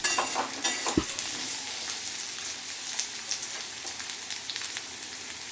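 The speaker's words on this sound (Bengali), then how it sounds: "এবার আমি আলুটা ভেজে নিচ্ছি" Steady crackling sizzle of potatoes frying in a pan, a continuous hiss with a brief low clunk near the start.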